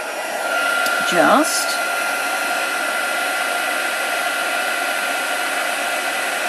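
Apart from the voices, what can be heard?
crafting heat tool blowing hot air for embossing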